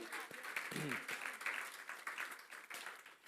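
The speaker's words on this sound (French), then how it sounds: "Quelqu'un peut-il applaudir le Seigneur?" Congregation clapping during a French-language church service, a quiet, dense patter of hands heard at a distance, mixed with a brief vocal sound early on.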